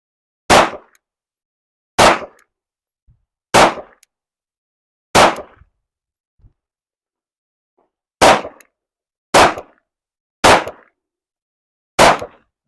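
Eight Glock 17 handgun shots ring out at an outdoor range, loud sharp cracks spaced one to two seconds apart with a longer pause midway and short echoing tails.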